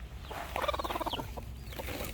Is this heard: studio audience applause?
no